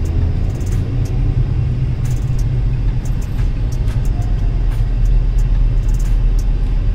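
A car engine rumbles steadily while the car sits stuck in stop-and-go traffic in the UAE, a loud, constant low drone heard from inside, with light clicks and ticks above it.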